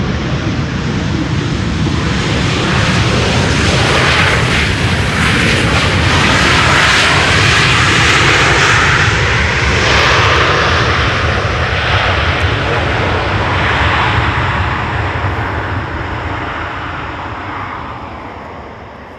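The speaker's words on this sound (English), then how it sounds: "Transavia using their reversers is quite rare." A Transavia airliner lands at Schiphol's Polderbaan runway 18R with thrust reversers engaged, giving a loud, sustained jet roar that builds, holds, and slowly fades as the aircraft decelerates.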